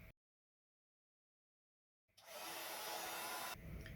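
A heat embossing tool blows a loud, steady whooshing hiss while heating a sentiment on a card, starting abruptly after near silence and continuing close up to the end.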